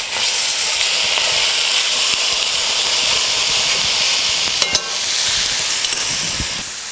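Pork sears in a hot pan with a loud, dense, continuous hiss of frying fat, steady for several seconds with a couple of small knocks near the end.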